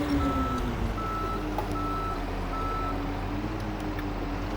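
A snowplow truck in the video game Snowplow Simulator reverses, its backup alarm beeping steadily and evenly over a loud, continuous engine drone.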